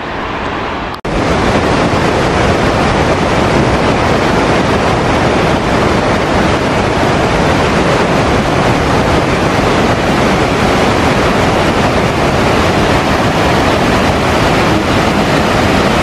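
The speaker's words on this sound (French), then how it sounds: "Sacré torrent hein." A mountain torrent near the Glacier de l'Ailefroide roars loudly and steadily, a dense unbroken rush of water close to the microphone from the first second to the end.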